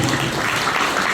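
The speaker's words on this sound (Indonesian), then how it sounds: "tepuk tangan buat masnya" Audience applause at a motivational talk on Qur'an memorisation, a brief, steady burst of many hands clapping at once, fairly loud and close.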